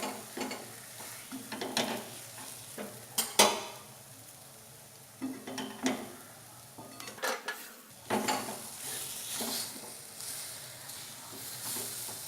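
A roshopuli pitha filling, a coconut mixture, is stirred in a kadai, with scraping, clattering strokes and a faint sizzle repeating unevenly.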